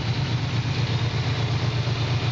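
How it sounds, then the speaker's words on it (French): A 1967 Camaro engine idles steadily, a loud, even low rumble with a fast regular pulse close by and no other sounds over it. "Première vue, un moteur qui tourne bien."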